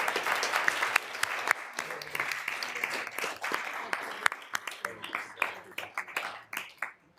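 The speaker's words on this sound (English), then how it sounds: "Maybe one more round of applause." A crowd applauds in a sustained burst at a university Board of Regents meeting, thinning into scattered individual claps toward the end.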